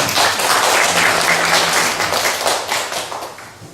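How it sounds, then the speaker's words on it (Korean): A church congregation applauds together, a dense, steady burst of many hands clapping up close that holds for a few seconds before tapering slightly. "박수 한번 합시다."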